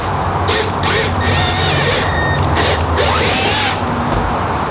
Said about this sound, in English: that plastic was super easy to drill through, not very thick.